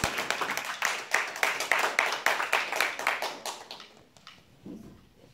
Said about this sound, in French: Et je voudrais aussi terminer par notre frère Arsène que je voudrais qu'on acclame